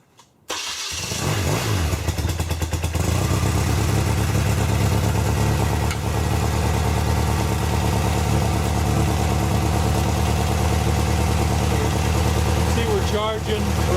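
A motorcycle engine cranks and catches after an EnDuraLast II charging system install, then settles into a loud, steady idle with an even throbbing rumble close by, running continuously to the end.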